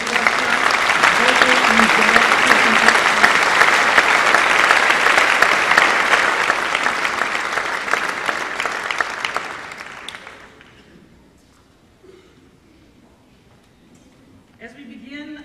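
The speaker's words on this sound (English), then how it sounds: "How about another round of applause for Mr. Dine, Ms. Dingle, Ms." An audience at a Neenah school district Gold Tassel ceremony gives a loud, sustained round of applause that tapers off into quiet, followed by a voice speaking briefly at the end.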